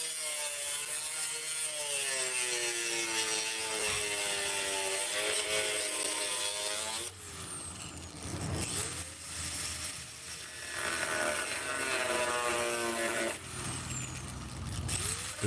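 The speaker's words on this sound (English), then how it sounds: "all the loud grinder noise" A neighbor's loud grinder running outdoors near a church, a steady harsh whine with shifting pitch that cuts in and out, dropping off around the seventh second and again near the thirteenth.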